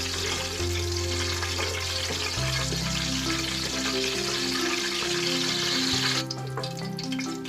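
Cardamom pods fry in hot oil in a home kitchen while mutton rezala is being made, giving a steady, close hiss and crackle over background music.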